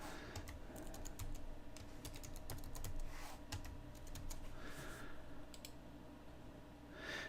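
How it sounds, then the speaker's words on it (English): A computer keyboard clatters with a quick, uneven run of key presses as a directory services restore password is typed on a Windows Server 2016 machine, over a low steady background hum. "type our directory services restore password in here"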